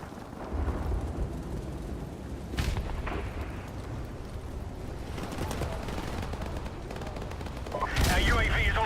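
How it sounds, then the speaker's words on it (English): Burst-fire gunshots from a weapon in Call of Duty 4 Remastered crack in short sharp clusters amid ongoing game noise, with a louder burst near the end. "I totally forgot this gun is a burst."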